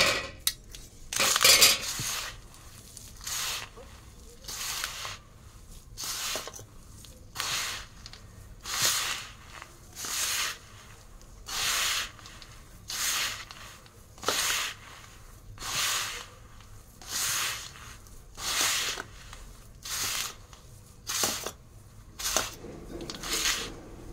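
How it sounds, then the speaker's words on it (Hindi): Semolina laddu ingredients are mixed by hand in a bowl, with a close, rhythmic series of scraping, clinking strokes repeating roughly every second, alone without talk. "तो मैं ये सारा सामान मिलाने जा रही हूँ"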